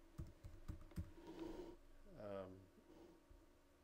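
Light computer keyboard typing, a few separate key clicks close by, while a post is composed on a Facebook fan page; a voice murmurs briefly partway through.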